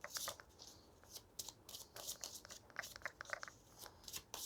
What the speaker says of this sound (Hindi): बहुत सारे कार्ड्स गिर रहे हैं।